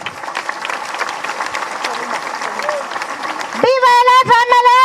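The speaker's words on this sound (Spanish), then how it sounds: "¿Para quien pido un fuerte aplauso?" Audience at an FMLN commemoration rally in El Salvador applauding, a crowd clapping under a cheering voice, then a burst of whistling and music-like tones rising near the end.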